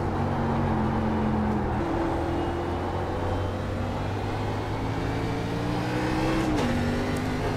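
NASCAR race car engine in the iRacing game at Watkins Glen, a steady loud drone whose pitch steps down and shifts as the gears change, running continuously with no talk.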